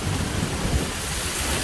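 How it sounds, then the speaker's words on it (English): Heavy rain pours steadily during a thunderstorm, a dense, loud, unbroken hiss with low rumbling underneath, no voices present. "Pouring rain still."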